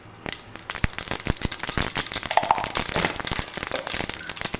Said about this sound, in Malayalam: എണ്ണ ചൂടായി. അതിലേക്ക് നമുക്ക് ആവശ്യത്തിനുള്ള കടുക് ഇടാം.